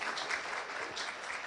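A seated audience at a construction trade show launch event gives soft, steady applause from a distance, welcoming a guest speaker to the stage.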